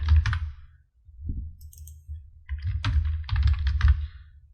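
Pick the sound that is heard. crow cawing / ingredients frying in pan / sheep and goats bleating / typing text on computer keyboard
typing text on computer keyboard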